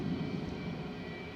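A Boeing 757 airliner at Manchester Airport rumbles faintly from a distance, a low, steady roar with no talk over it.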